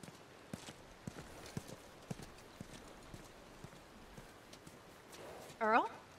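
A horse in The Last of Us Part II clip-clops along in steady, fairly close hoofbeats, then gives a short whinny at the end.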